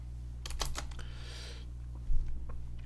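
Typing on a computer keyboard, a quick burst of close, crisp key clicks followed by a couple of isolated taps, with no talking.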